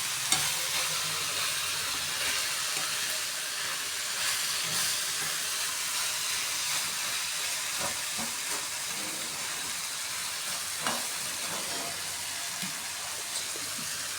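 A ladle stirs a bitter gourd stir fry in a pan, scraping and clinking now and then over a constant loud sizzle and hiss of frying, with no talk.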